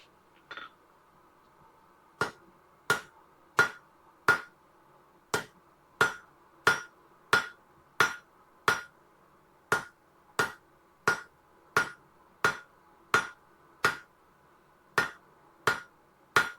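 A hammer strikes hot steel on an anvil while tongs are being forged. About twenty sharp, ringing blows land at a steady, even pace, close and clear, with short gaps between them and no talking.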